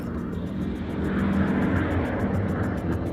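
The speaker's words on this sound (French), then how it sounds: "Elle entendait le moteur rugir." A loud, steady aircraft engine roar with a low propeller-like drone, holding close and constant throughout with no voices.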